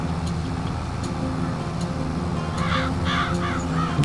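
Crows cawing in Farming Simulator 22, a few harsh calls rising toward the end over a constant low tractor engine drone, no talking.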